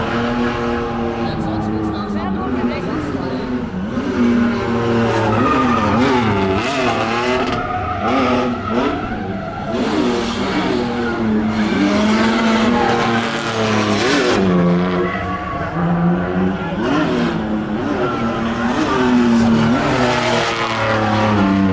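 At a Tuning World Bodensee car show, a drifting car screeches its tires in long, wavering squeals over a revving engine for more than twenty seconds, loud and continuous, with a crowd and voices talking throughout.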